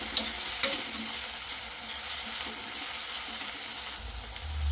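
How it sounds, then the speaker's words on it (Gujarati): Chopped green chillies with asafoetida stirred into hot oil in a pan, a steady even sizzle with a couple of light scraping clicks near the start, close and continuous without speech. "મરચાંની તેલ સાથે સરસ મિક્સ કરી લઈએ."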